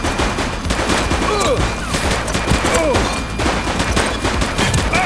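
Rapid bursts of gunfire fill a shootout in the police video game The Precinct, shots cracking in dense overlapping volleys throughout, loud and close, with shouted voices mixed in.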